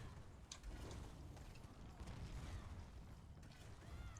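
A door-opening mechanism in the video game Elder Scrolls Online grinds and ratchets with creaking clicks and a few sharp knocks, quiet and low in level, running steadily under faint background game noise.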